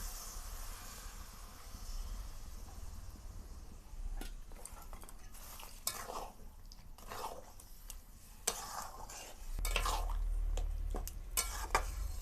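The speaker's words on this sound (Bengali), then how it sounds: "এখন ঘন ঘন নাড়াচাড়া করে নিতে হবে, না হলে নিচে লেগে যাবে।" Tamarind and jaggery water being stirred in a pot for a sweet-sour pickle: a steady low simmering hiss with repeated scraping and clinking strokes against the pot, close and moderately loud, no talking.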